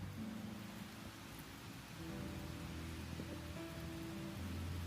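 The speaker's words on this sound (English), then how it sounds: "Today, in the early morning, it was raining heavily" Heavy early-morning rain falls in a steady, dense wash of noise that holds faint and continuous for the whole stretch, with low hum lines underneath.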